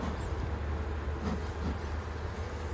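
Honeybees fly around the front entrance of a Langstroth hive, making a soft, steady buzzing hum at a low level, with no voices.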